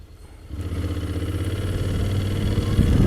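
A 2017 Honda X-ADV scooter engine starts up and settles into a steady, throbbing idle, close and fairly loud, with a faint rise toward the end and no voices.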